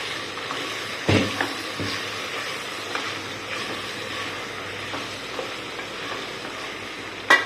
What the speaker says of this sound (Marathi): हे जे बटाटे होते ना ते टाकून घेतोय परतवून घ्यायचंय